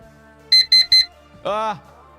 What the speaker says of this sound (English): The loud alarm went off.